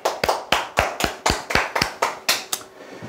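At a sales coaching lecture, sharp hand claps ring out in a steady, regular rhythm, about a dozen distinct crisp strikes in quick succession, close and clear with no talking.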